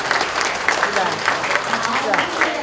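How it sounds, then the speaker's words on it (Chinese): Guests applaud at a plaque unveiling for a career exploration centre at Jiali Junior High School in Tainan, dense continuous clapping throughout with a voice speaking over it. "请来宾掌声鼓励。"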